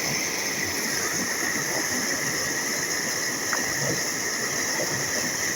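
A swollen stream runs strongly after a day of heavy rain beside the Kannimar temple near Salem, Tamil Nadu, making a steady, dense rushing wash that stays even throughout, with no voices.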